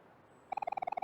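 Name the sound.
birds chirping outside, from video game Omori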